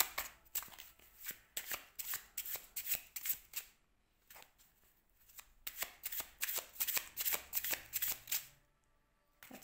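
Tarot cards being shuffled and drawn by hand, with quick close riffling and flicking bursts in two runs separated by a short pause, all quiet and without talk.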